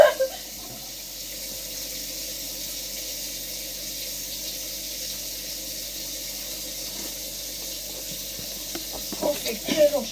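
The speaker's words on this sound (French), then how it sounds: "On fait couler l'eau chaude." Hot water runs steadily from a kitchen tap into a sink while clearing the table and washing up, a continuous close hiss and splash with a few faint clinks near the end.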